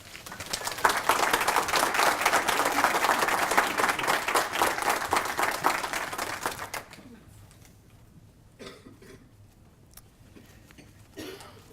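Audience applause greets a speaker, Ed Zimmer, at a talk on Lincoln's early African-American professionals: dense, steady clapping for about seven seconds, then fading out to a quiet room with a few faint shuffles and a final small noise.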